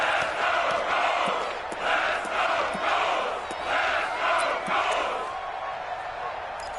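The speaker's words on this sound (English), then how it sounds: "the crowd getting into it as we come up on a big 3rd down" A stadium crowd in the Madden 20 football video game roars steadily throughout, swelling in waves with faint thumps underneath and no clear break in the noise.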